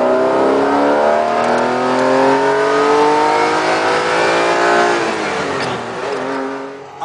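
A Ferrari 512 TR's 180-degree flat V12 revs hard and loud, its pitch climbing steadily in a continuous howl before easing and dipping near the end, with no voices over it.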